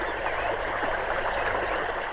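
Water gushes from a pump set in a field, a steady, even rushing hiss with no breaks and no voices.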